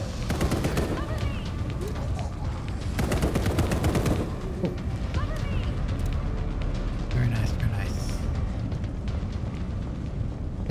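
Assault rifle fire in the video game Blackout Protocol: dense bursts of rapid shots, loudest in a couple of heavy volleys, running under steady game noise and talk.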